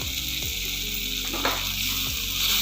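Capsicum and peanut curry being mixed in a pan with ground peanut, sesame and coconut sprinkled over it, a steady loud sizzle with a few spoon scrapes and knocks, close and without talking.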